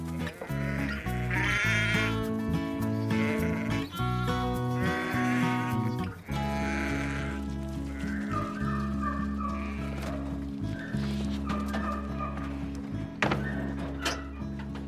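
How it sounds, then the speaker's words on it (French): Scottish Blackface sheep being herded back to a farm in Ireland bleat loudly and almost without pause, many voices overlapping into a dense flock chorus. "les moutons avec la tête noire comme ça, c'est les moutons d'Irlande? Ils sont typiques d'Irlande et d'Écosse. Ce sont des Scottish Blackface."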